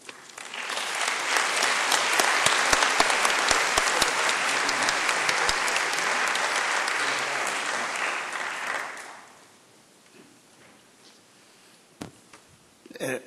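An audience at a university presidential investiture ceremony applauds to welcome a speaker: sustained, dense clapping for about nine seconds, then it fades into quiet room noise with a few bumps.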